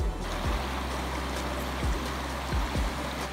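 A river stream on the Aadhikhola flowing steadily, a continuous broadband rush heard close by with a few low thumps, no voices.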